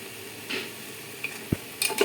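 Chicken stew being stirred in a pot, with a few sparse, soft scrapes and knocks of the spoon against the pot over a quiet background.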